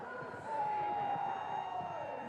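A seaside crowd at a Red Bull soapbox race cheers and shouts in a steady roar for a struggling racer, with a commentator's voice running over it.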